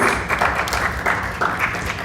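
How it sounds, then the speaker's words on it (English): Audience at a university speaker-series event applauding the speakers, a steady wash of many hands clapping throughout, moderately loud with no talk. "Let's give them a round of applause."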